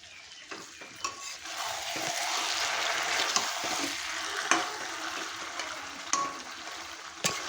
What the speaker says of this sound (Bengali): এখন আমি এটা দিয়ে একটু ভালো করে নেড়ে চেড়ে নেব।